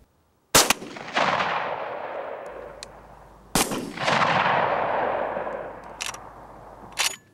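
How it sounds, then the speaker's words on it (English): Two loud shotgun blasts fired through an improved cylinder choke at a 30-yard pattern target, each a sharp crack followed by a long rolling echo, with fainter distant shots between and after. "First, we'll shoot the improved cylinder."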